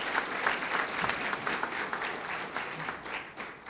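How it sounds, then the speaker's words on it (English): Audience applause at a community college building groundbreaking ceremony, a steady outdoor-sounding round of clapping from a modest crowd at moderate level, holding evenly for a few seconds. "let's clap it up for your campus president here, Dr. Perkins."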